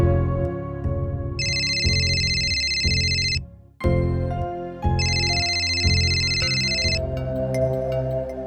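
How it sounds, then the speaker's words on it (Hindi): A telephone rings on and on, unanswered, inside a government residence in Solapur, Maharashtra, with two long electronic ringtone bursts over a repeating melodic tone, loud and close, with no talking. "घर के अंदर लगातार फोन बज रहा था, लेकिन कोई उठा नहीं रहा था।"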